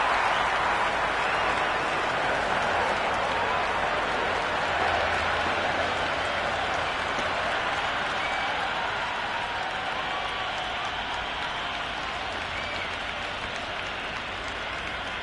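Steady, dense applause and crowd noise from a cricket stadium in the video game Cricket 26 during an England versus Australia Ashes match, a continuous wash of clapping that fills the whole stretch at a fairly even level without letting up.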